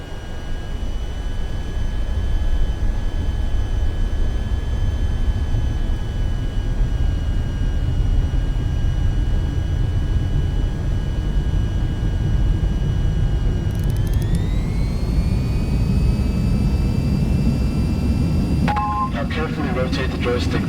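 A jet in the VTOL VR flight game rolls down the runway at full throttle, a loud steady engine roar with whining tones that rise in pitch partway through as it speeds up.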